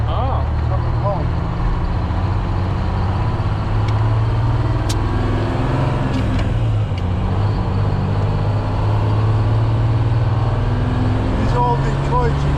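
An old Detroit Diesel truck engine runs steadily with a deep, continuous rumble, close and loud throughout, while people talk over it inside the cab.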